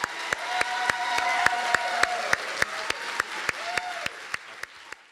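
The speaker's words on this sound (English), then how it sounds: "Please give a big round of applause" An audience claps steadily, a dense patter of applause with a few louder, regular claps standing out, fading slightly at the end.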